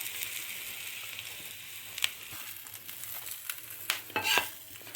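An egg, already flipped after one side cooked, fries in a pan with a soft, steady sizzle. A few light spatula scrapes and clinks sound near the end, fairly quiet and close, with no talking.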